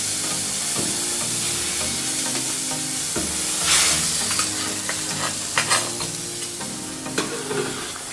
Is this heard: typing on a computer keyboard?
no